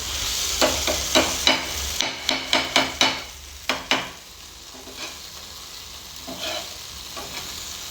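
Prawns fry in a pan with a steady sizzle, broken by a run of sharp, regular spatula knocks and scrapes against the pan in the first half, then the sizzle continues more quietly; no talking.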